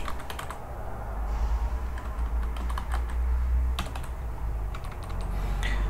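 Someone types a password on a computer keyboard while setting up a Postgres database connection, producing quick bursts of clicky keystrokes with short pauses between them, close and clear over a low hum.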